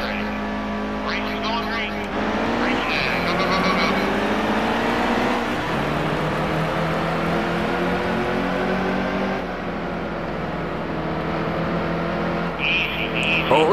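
NASCAR trucks roar off the line in a Truck Series racing video game at New Hampshire, engines rising in pitch through gear shifts in a continuous close drone, with a voice talking over part of it.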